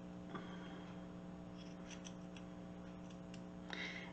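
Scissors snip through the fingers of a glove while making a mini gnome craft, giving a few faint, scattered clicks and cuts over a steady low hum.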